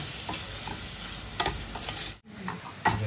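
Goat liver stir-frying in a hot pan, a loud continuous sizzle with repeated scraping stirs of a spatula and a brief dip where the noise cuts out.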